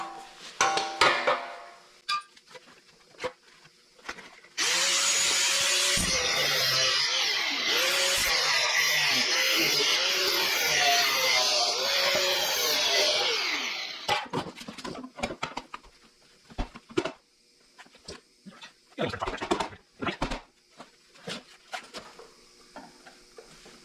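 A power tool cuts away a rusty car rocker panel, a loud, continuous grinding whine lasting about ten seconds, followed by scattered clanks and knocks of handling the metal.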